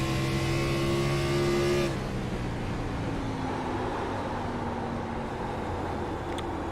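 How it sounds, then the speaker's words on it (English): Sim race cars at New Hampshire in an online racing league, engines droning loud with stepped pitch drops as they downshift into a corner, then a steady lower engine hum with a faint tire squeal. "it sounds like these guys could be downshifting here"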